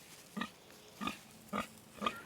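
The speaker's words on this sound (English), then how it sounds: "this is our female pig" A female pig grunts four times in a pen, short evenly spaced snorting grunts, close and moderately loud, with quiet pauses between them.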